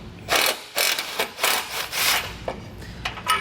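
A ratchet wrench with a 15mm socket cranks frame extension bolts loose on a 2022 Jeep Cherokee, close and fairly loud, in repeated bursts of clicking strokes with short pauses between them.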